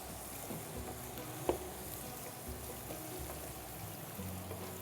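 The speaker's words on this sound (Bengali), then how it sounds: "এই দেখো আমার হাতে কিন্তু কিউব করা স্লাইস পেঁয়াজ দিয়ে দিলাম।" Cubed, sliced onions sizzle in a frying pan with a soft, continuous hiss, fairly quiet and even, with one brief clink partway through.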